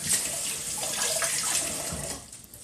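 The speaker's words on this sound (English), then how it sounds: "Rinse my hands off." Hands are rinsed under a running kitchen tap, a steady close hiss and splash of water that fades slightly near the end, with no voices.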